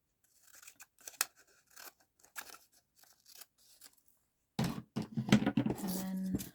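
Scissors cut acetate sheet in a series of short, crisp snips, close and quiet, with pauses between them, followed by a louder, longer stretch of crinkly cutting and handling near the end.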